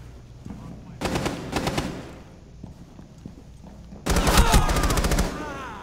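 Automatic gunfire in the video game Rainbow Six Siege comes in two loud, rapid bursts, a short one and then a longer, heavier volley, with quieter game noise between them.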